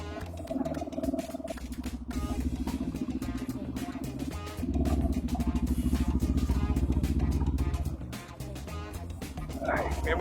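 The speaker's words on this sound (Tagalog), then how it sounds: "Ay, may motor ulit ha." A motorcycle ridden on a rocky backcountry trail toward Agos River in Santa Maria, Laguna, its engine droning steadily and close, rising louder midway and then briefly easing, with a faint voice at the end.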